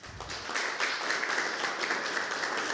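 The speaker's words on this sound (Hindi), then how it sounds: "उनका जोरदार तालियों से स्वागत करते हैं" A crowd applauds, a dense patter of many hands clapping steadily at moderate volume throughout.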